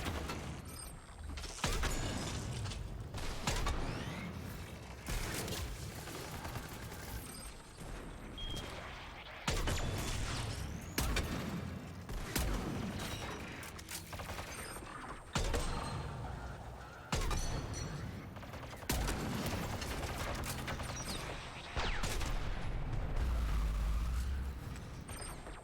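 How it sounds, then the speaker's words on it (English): Gunfire from shooting enemies in the video game Mass Effect: repeated loud bursts and sharp shots in irregular clusters over about 25 seconds, mixed with mechanical clanks and other game effects, with a voice talking at times. "You shoot them now."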